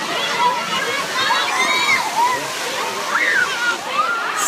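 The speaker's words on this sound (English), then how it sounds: "Lazy river behind me." Water splashes and sloshes steadily in a water park lazy river, with lively voices and children's shouts over it throughout.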